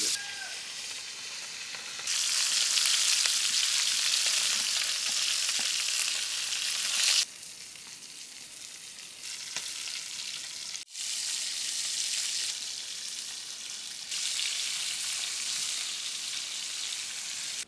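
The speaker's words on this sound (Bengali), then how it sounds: "মাছটা একটু ভাইজে নিতে হবে" Folui fish coated in turmeric and salt sizzles as it fries in hot oil, a steady close crackling hiss that swells louder at intervals and briefly dies down when the pieces are moved.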